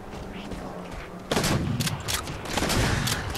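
Pump-action shotgun fire in Halo 4, a loud burst of gunfire erupting after a quieter opening of game ambience, followed by several more close blasts in quick succession.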